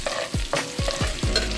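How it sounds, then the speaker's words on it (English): Garlic and onion sizzle in butter and olive oil in a frying pan, a constant close hiss broken by several quick scraping stirs, with no voices. "Just throwing in my garlic and my"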